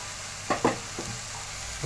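Onions sauté in a pan for vegetable noodles, a steady sizzle broken by a few brief stirring scrapes near the start.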